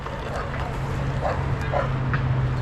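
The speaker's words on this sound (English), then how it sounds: "I say, I hear a dog." A dog barks and yips a few times outdoors, somewhat distant, over a steady low hum during an e-bike ride.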